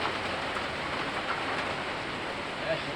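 Heavy rain pouring down during a flood, a dense, constant roar of rainfall that stays steady and loud throughout, with no other distinct sounds.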